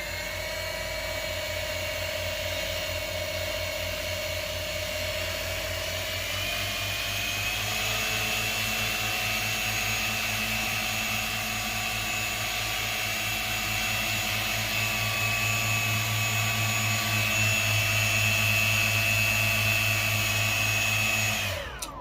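An Atomrc KillerWhale RC plane's electric motor runs at steady throttle, a loud, close, continuous whine with layered tonal hum that shifts pitch slightly partway through and holds until it cuts near the end.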